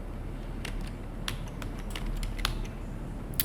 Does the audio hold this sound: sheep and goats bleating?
no